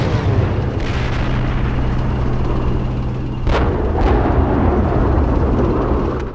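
Tank main gun fire and explosions in the Steel Beasts Pro PE armored combat simulator, a dense continuous rumble of battle with a couple of sharper blasts standing out midway, loud and sustained throughout.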